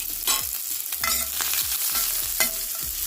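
Onion frying in oil, a close steady sizzle broken by regular scraping and knocking strokes of a utensil stirring the pan, with no talk.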